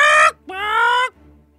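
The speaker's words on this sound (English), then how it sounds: "Hey, is that a chicken, Mr. President?" Two loud, close, strained calls in quick succession, harmonic and squawking like a chicken's cluck, the second longer and drawn out, alone, with no talk.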